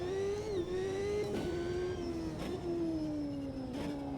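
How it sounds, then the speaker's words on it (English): Formula car engine heard from the cockpit in the racing game Automobilista 2, a steady droning whine holding high revs with small dips at each shift, sustained and alone. "The cockpit sound of this car is not too great."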